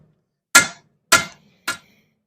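Three sharp hammer blows ring out on hot steel being forged into a clip point knife blade, evenly spaced and close, each a bright metallic strike with a short decay, fading slightly by the last.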